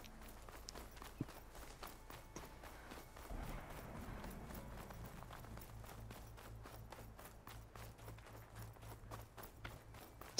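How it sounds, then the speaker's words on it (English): Synchronized footsteps in Horizon Forbidden West: a faint, even, steady march of many feet, regular beats running throughout under a low rumble, with no talking. "Synchronized footsteps."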